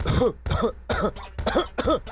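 A voice imitating a coughing fit in a Bo Diddley beat from the trivia game You Don't Know Jack: six or so loud, raspy coughs in a syncopated, rhythmic pattern, close up and alone.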